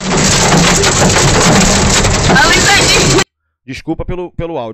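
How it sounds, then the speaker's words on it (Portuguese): Heavy rain pounds on a car in a loud, dense, steady roar for about three seconds, then cuts off abruptly, after which a person speaks. "dá o barulho da chuva no carro"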